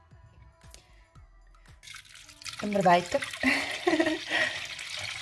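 Lukewarm water is poured into a bowl with yeast for bread dough, a rising bubbling splash that grows louder and fills the second half, after a few light taps and a brief spoken comment.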